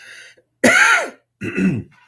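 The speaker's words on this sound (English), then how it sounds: "excuse me, coughing. I'm coughing." Two harsh, throaty coughs close to the microphone, separated by a short pause, with near silence around them.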